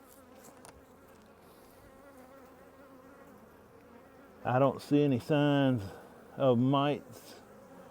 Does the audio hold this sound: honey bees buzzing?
yes